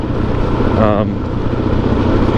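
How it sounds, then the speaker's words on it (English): A Suzuki DR-Z 440 dirt bike's stock exhaust gives a steady, low, muted engine rumble that stays even and quiet throughout. "the stock exhaust on this 440 DRZ is like super quiet, pretty stealthy"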